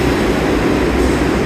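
A Times Square shuttle subway train roars past close by with loud, dense rumbling and rattling that holds steady throughout.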